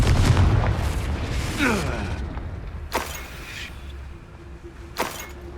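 A Confringo fire spell blasts in Hogwarts Legacy, giving a few sharp bursts and booms over ongoing game noise, with a spoken voice near the start.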